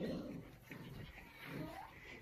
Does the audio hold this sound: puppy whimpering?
yes